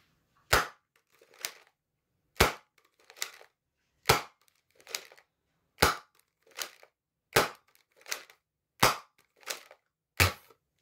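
Foam darts fire one at a time from Worker GEN3 and AF Pro blasters through a chronograph: sharp, loud pops, each followed by a smaller secondary snap, at a steady rhythm of about one every one to one and a half seconds.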